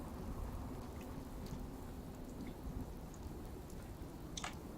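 Steady rain pattering on a roof in the Fallout 4 game world, a continuous wash of drops with no voices, heard from under the roof.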